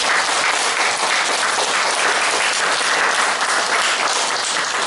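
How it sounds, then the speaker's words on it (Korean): A large indoor audience at a mission school panel discussion breaks into loud, sustained applause, a dense even wash of clapping with no voices over it. "우리 자랑스러운 여러 모든 분들 위해서 박수 한번"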